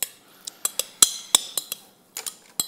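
Sharp metallic clinks of a utensil against a bowl while mussel tartare ingredients are mixed together, about a dozen separate taps at an uneven rhythm, close and fairly quiet, with no voices.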